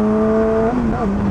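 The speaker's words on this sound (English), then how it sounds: "I'm gonna go ahead and do an acceleration while I'm still talking" A car with a loud exhaust accelerates up through the revs, then its engine note shifts as it downshifts, with a steady droning tone heard up close.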